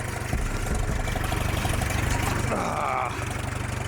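A 1938 Farmall F-20 tractor engine runs close by in a steady, loping idle with rhythmic low knocking pulses, holding an even loudness throughout, with a brief rising whine partway through.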